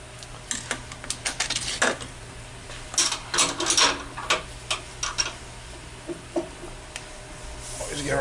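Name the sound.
counterbore tool cutting GM 4.3 forklift engine valve seat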